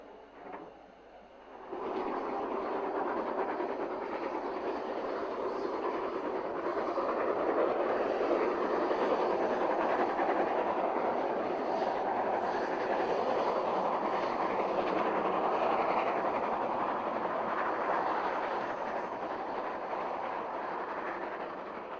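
Two steam locomotives double-head a train with a runner wagon between them, a sustained rumbling rolling roar that stays steady and moderately distant after a quiet start.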